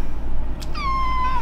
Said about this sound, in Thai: น้องแมว